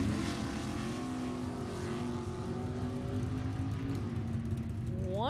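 Drag racing cars, a 1972 Pinto and a 1968 Camaro, idling and revving at the line; a steady engine drone with a rising pitch sweep toward the end, loud and continuous.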